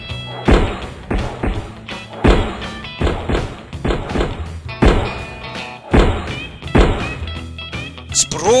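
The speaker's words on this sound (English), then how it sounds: "Explosion!" Repeated loud, punchy blasts go off in the U.B. Funkeys video game, roughly once a second across the stretch, each a sharp broadband hit that decays quickly, with game music and effects continuing between them.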